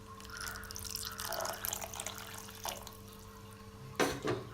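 Water is added to simmering potato kurma gravy, with soft drips and trickling splashes under kitchen hum, ending in a brief louder pour near the end.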